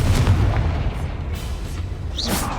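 A Confringo blasting spell goes off during combat in the Hogwarts Legacy video game, a loud low boom with sustained rumbling that holds steady, ending in a bright whooshing flourish.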